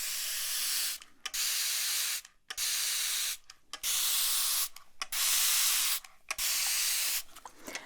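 A spray bottle releases about six long, hissing sprays in an intimate ASMR setting, each a loud, steady whoosh lasting around a second, separated by brief silences.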